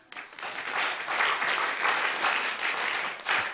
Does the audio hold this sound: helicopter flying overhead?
no